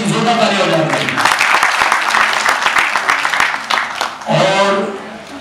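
A crowd at a felicitation event for student cancer patients breaks into loud, sharp applause for an actress. Someone talks just before the clapping starts and again as it fades.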